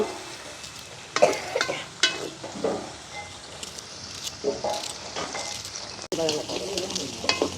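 Onions and green chillies are sautéed in hot oil in a village kitchen, with a steady sizzle and frying crackle broken by repeated stirring scrapes, loud and close throughout.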